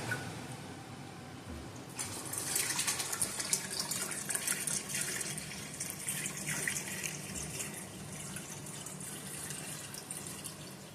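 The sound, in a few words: water filling pressure canner over quart jars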